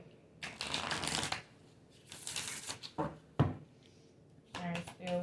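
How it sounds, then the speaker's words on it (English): A deck of playing cards is shuffled in several quick riffling bursts, close and fairly loud, with short pauses between them. "I don't know why I'm shuffling again, but evidently we need to."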